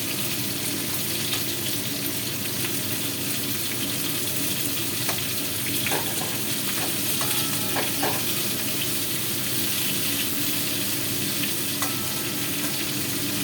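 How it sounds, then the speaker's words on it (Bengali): Pointed gourd (potol) frying in a pan for a vegetarian meal, giving a steady sizzle with a few soft stirring clicks. "বেশ ভালো করে ভাজা না হলে পটলগুলো, এখনকার পটল একটু নরম হতে দেরি হয়।"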